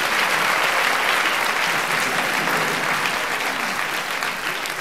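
An audience at an Armenian stand-up comedy show claps in sustained, dense applause, loud and even throughout the short stretch with no speech.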